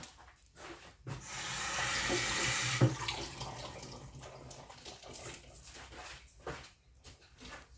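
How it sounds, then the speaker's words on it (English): Tap water runs into a sink as lettuce is rinsed, with a steady stream near the start and then softer splashing and handling noises. "As I give the lettuce a little rinse."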